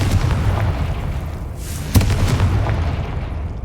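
A Confringo blasting spell goes off in Hogwarts Legacy, a rumbling low boom with one sharp bang near the middle over a dull, steady background.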